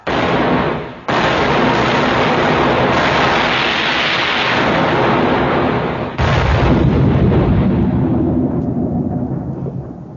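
Ship's cannons fire a broadside in a naval battle, heavy booming blasts that roll and rumble into one another, loud and close, with a second great burst after a short gap and a slowly fading tail.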